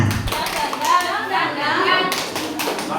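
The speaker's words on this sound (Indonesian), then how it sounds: "Tepuk semangat." A group of people at a school principals' training session claps out a rhythmic spirit cheer, short bursts of hand claps close by with voices chanting along in the background.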